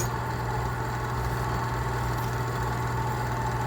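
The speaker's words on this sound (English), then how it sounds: "I thought I'd show you how this wood lathe" A wood lathe running steadily in a workshop, giving a continuous motor hum with a strong low tone and even vibration, close and unbroken, with no voices.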